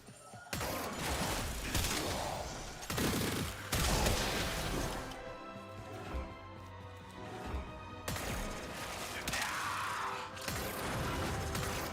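The Kuva Nukor in Warframe fires in long sustained bursts, a dense crackling, buzzing beam with metallic mechanical texture, loud and close, pausing briefly around the middle before firing again.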